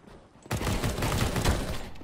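After a short quiet lead-in, gunfire from the video game CS:GO erupts suddenly and continues as a loud, rapid barrage of shots to the end.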